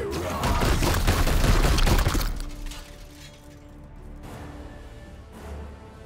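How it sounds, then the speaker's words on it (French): A psychic explosion in the Warhammer game Chaos Gate bursts out as a loud, crackling, shattering blast for about two seconds, then fades to a low hum with a faint swell near the end. "ça me fait une explosion, un sub psychique"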